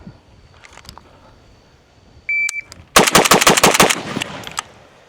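Zastava M92 rifle loaded with GROM ammunition fires a rapid burst of about six sharp, loud shots in quick succession, preceded by a brief electronic beep and faint outdoor ambience.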